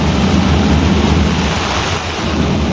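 Heavy rain pouring during a Ganesh immersion procession in Bhubaneswar, a dense, loud, continuous roar of rainfall close by with no voices.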